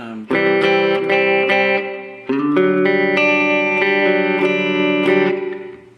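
Electric guitar chords ring through a Mooer Shimverb pedal on its room reverb setting, two sustained strummed chords followed by a run of notes that decay with a short, slightly tinny ambience.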